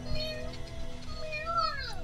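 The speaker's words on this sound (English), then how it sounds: "I need a plushie of that cat immediately." A cat meows in an anime episode: a clear, near, drawn-out cry with gliding pitch, followed by a couple of shorter rising mews, over a low steady background hum.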